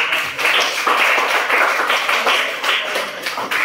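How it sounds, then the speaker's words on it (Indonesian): Classroom applause welcoming a new student group: a steady burst of many hands clapping together, fairly loud and continuous for a few seconds, with no talking over it. "Kasih tepuk tangan untuk kelompok baru."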